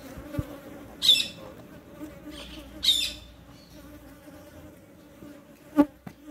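Bees hum around beehives during a hive check outdoors, with a steady low drone and a few brief louder buzzes as insects pass close, plus a faint tap.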